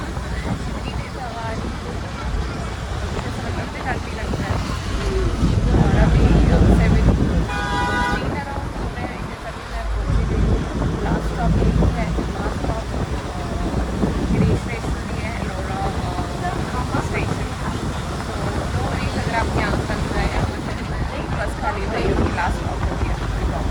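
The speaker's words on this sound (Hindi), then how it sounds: "कितनी तेज हवा चल रही है और वो मेरे डायरेक्ट मुंह पे लग रही है।" Strong wind rushes loudly through an open car window on a road trip toward Trimbakeshwar near Nashik, a steady broadband roar filling the whole stretch, with a brief horn toot partway through and a person talking over it.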